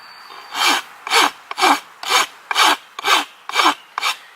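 Steady rasp strokes shaping the edge of a bamboo recurve bow near the handle, eight even back-and-forth scrapes in a regular rhythm, close and clear with no talking.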